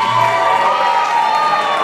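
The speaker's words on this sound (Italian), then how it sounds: "Facciamo un applauso forte a Tiziana, che era lì." Audience at a live folk concert cheers and applauds in a steady, dense wash of clapping and shouting that holds loud and unbroken throughout.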